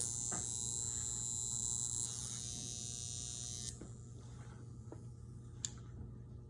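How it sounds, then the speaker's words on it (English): A high frequency skin treatment machine for acne emits a faint, steady high-pitched electrical whine over a low mains hum, cutting off partway through, followed by a few soft ticks and clicks in a quiet room. "And that is how you use a high frequency machine."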